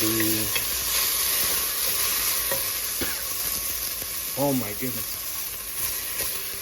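Minced jalapeno and scallions cook in a pot for turkey chili, a constant close sizzle and hiss with occasional stirring clatter, and a few faint voice-like murmurs underneath.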